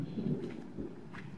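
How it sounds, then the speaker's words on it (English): A low, faint rumble of thunder in a rainstorm over a tin roof, a soft rolling boom heard from a distance. "More thunder."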